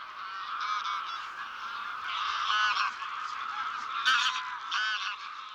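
A dense chorus of migrating geese honking overhead above the Villafáfila wetlands in Spain, many overlapping calls in a steady, fairly loud clamor that swells and fades slightly.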